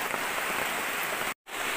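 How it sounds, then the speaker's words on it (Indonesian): Heavy rain pours steadily through tall forest trees at a bushcraft tree-house camp, a dense, loud, continuous hiss broken by one very brief cut-out near the end. "Yeay, hujannya nambah deres."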